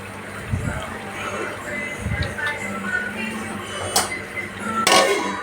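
Crab curry tossed in a cooking pot by hand, with a few faint rustling shakes and a couple of sharp lid clinks near the end over a steady low background; a voice seems to speak in the background.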